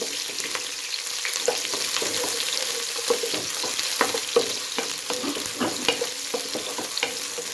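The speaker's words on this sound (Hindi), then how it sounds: "ये ऑयल गर्म हो गया, घी, तो इसमें हमने प्याज ऐड कर देना है।" Onions hit hot ghee in a pot for beef pulao and fry with a steady, dense sizzle and crackle, broken by the scrape of stirring, close up with no voices.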